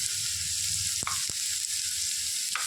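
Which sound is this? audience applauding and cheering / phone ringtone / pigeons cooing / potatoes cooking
potatoes cooking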